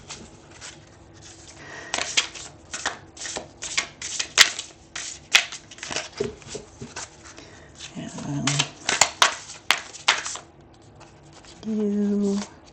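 Oracle cards are shuffled by hand in quick, irregular bursts of crisp flicks and riffles, close and fairly loud, with a short hum of another sound near the end.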